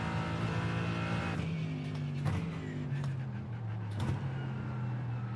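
Race car engine drones steadily throughout in the iRacing sim, a BMW GT car lapping the Atlanta or Algarve circuit, its pitch sliding down and rising with shifts, with brief tire squeal bursts near the middle and end.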